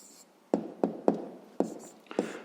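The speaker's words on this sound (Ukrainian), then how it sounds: "Пишемо відповідь" Writing out a math answer by hand, a few quiet separate pen or chalk strokes in an irregular rhythm, close by in an otherwise hushed room.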